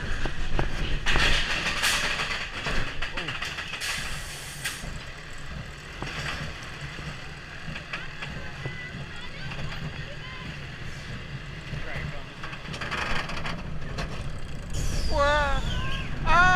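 Steel roller coaster ride at Bobbejaanland with triple launch elements: a continuous rushing roar of wind and track rumble, with riders talking and shouting over it.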